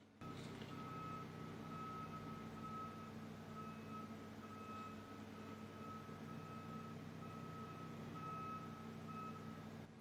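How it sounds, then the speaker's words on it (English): A vehicle's reversing beeper sounds outside at a steady, even pace, faint and distant over a low background hum. "And there's beeping outside."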